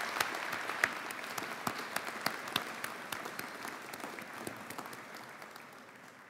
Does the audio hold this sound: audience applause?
yes